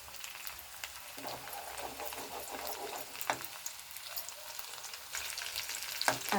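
Chilies sizzle and fry in a pan as they are sautéed for a dry prawn curry, a soft steady crackle with occasional stirring scrapes and pops, fairly quiet with no talk.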